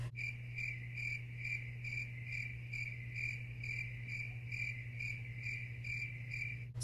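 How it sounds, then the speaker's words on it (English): Steady, rapid cricket chirping, a continuous high pulsing trill over a low constant hum, even and unbroken throughout, with no voices. "There was crickets."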